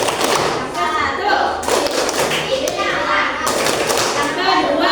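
A fifth-grade class performs a rhythmic group clap chant, with sharp bursts of clapping and tapping in a patterned beat mixed with children's voices chanting along throughout.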